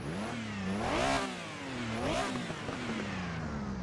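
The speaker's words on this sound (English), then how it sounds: "So let's hear this flat six sound." A flat-six car engine in Assetto Corsa with a GT Legends mod revs twice, rising and falling in pitch with a rough, buzzy, harmonic-rich tone, loud and close with no talk.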